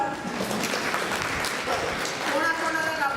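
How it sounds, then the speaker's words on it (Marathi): At a village workshop, an audience breaks into applause that carries on steadily beneath a speaking voice, moderately loud and somewhat distant in a reverberant hall. "काहींसाठी टाळ्या वाजवा."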